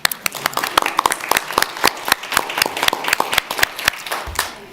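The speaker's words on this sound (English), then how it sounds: "A round of applause." A small audience at a joint city and county commission meeting claps, a few nearby hands giving sharp, fairly regular claps that carry on for several seconds before tapering off.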